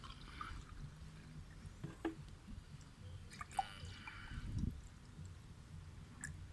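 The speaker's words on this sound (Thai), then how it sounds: "ทำการเทเติมน้ำเลยครับ เติมช่อง ID นะครับ" Water poured into the intake ports of a Toyota 1ZR/2ZR engine to check for leaking valves, soft trickling and dripping with a few small splashes, close but quiet.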